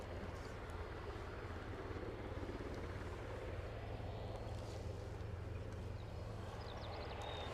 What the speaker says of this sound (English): the next chopper's just going behind the Gamma building